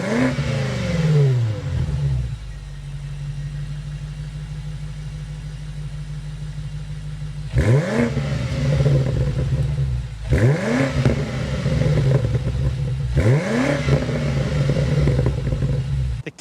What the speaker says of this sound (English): Let's start it up so you can hear that exhaust note.